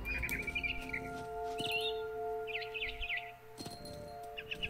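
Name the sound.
bird chirping in video game What Remains of Edith Finch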